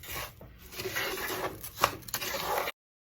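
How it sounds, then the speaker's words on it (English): Spoon scraping and stirring rice in a pan on a stovetop set fairly high, with soft irregular rubbing and scraping strokes at close range and low volume, no speech. "I'm gonna keep on stirring"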